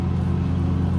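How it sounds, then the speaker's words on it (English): A lawnmower runs in the background, giving a steady, loud engine drone with a low hum that holds constant throughout. "I apologize for the noise of the lawnmower in the background."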